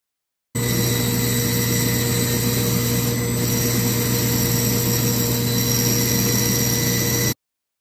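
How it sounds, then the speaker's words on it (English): Power saw blade cutting flashing off a surfboard fin, a loud continuous whining drone that holds steady for several seconds, then cuts off abruptly. "So let's get this flashing cut off, and then we'll show a more detailed cut."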